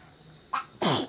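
A single sharp sneeze, preceded by a short sharp inhale, loud and close in an otherwise quiet room.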